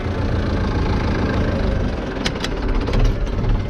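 A Zetor 7211 tractor engine running steadily on a farm, a loud, rough low diesel rumble with constant mechanical clatter, heard close with no talking.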